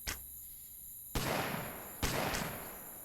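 Gunfire from guards shooting at zombies in the Colony Survival video game: two sharp, loud shot bursts about a second apart, each trailing into a noisy decay, after a brief opening crack.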